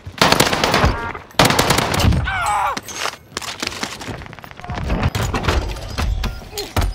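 Rapid machine gun fire from an MP40 in the shooter Warzone, loud bursts of shots crackling over battle noise, with a short break near the start before the firing resumes.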